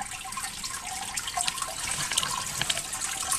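Water drains steadily through a bell siphon in a fish tank system, a continuous trickling and splashing rush with scattered drips, close and moderately loud throughout.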